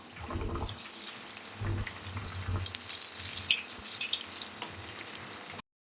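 Young jackfruit vadas drop one by one into hot oil in a kadai, giving bursts of crackling, bubbling frying with small pops and splutters, fairly close and moderately loud.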